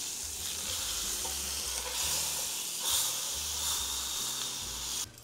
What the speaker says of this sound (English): We're going to sear it on each side for just a couple of minutes